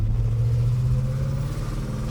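A 1967 Pontiac GTO's V8 rumbles steadily while driving, a deep, loud drone heard from inside the car with a slight shift in pitch partway through and no talk.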